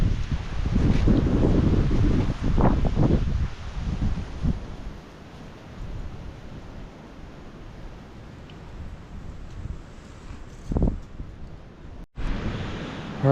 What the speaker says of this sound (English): The wind's cranking, so I hope these straps are still good on this thing